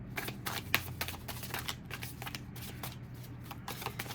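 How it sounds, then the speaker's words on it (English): Tarot cards being shuffled by hand, a steady run of soft riffling flutters and light papery slaps over about four seconds, close and quiet with no talking. "I will also pull 2 cards for advice"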